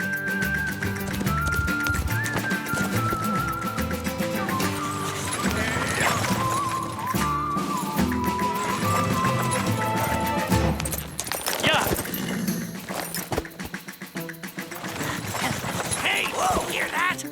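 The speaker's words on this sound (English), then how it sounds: "Sounds like a horse back there behind us." Horse hooves clip-clop at a trot behind a moving carriage, steady rhythmic knocks under a dense bed of music and effects, with voices talking over part of it.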